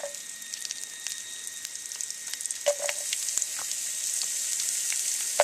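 Onions sizzling in hot oil in a skillet for a vegan Asian stir-fry, a steady bright crackle with scattered sharper pops throughout, close and fairly loud.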